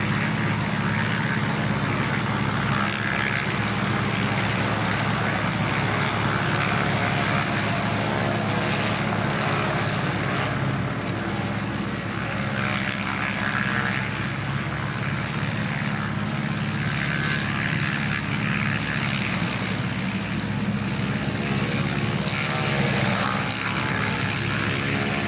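A propeller airplane lands at Christchurch Airport and rolls out along the runway, its steady engine drone filling the scene, moderately distant with a constant broad rumble.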